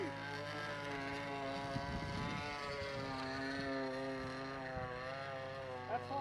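A Phoenix Models Sukhoi Su-31 radio-control plane with an O.S. .46 engine screams at full throttle, a steady high-pitched buzzing drone with rising harmonics, loud and close throughout.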